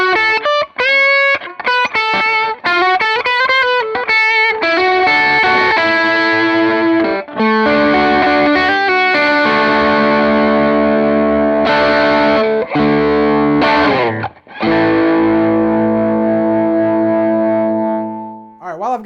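Strat electric guitar through a Wampler Moxie overdrive pedal, loud driven chords and ringing sustained notes played continuously with a brief pause before resuming.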